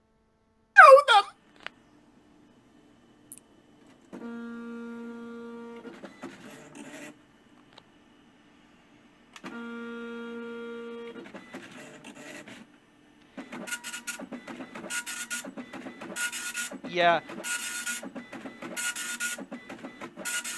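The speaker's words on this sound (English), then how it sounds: "My printer makes the same sound, but it's lower pitch and much faster." Printer in the sci-fi video game Solar Rift, running in repeated whirring, clicking passes with pauses between, mixed with game music and a voice speaking briefly.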